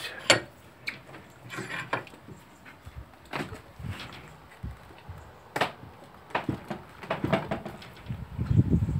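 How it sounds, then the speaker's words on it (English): A part for a metal mitre plane is cranked down tight in the workshop. It gives a series of sharp metallic clicks and ratcheting knocks, close and moderately loud, spread across the clip with no talking. "And then I tighten it up really tight."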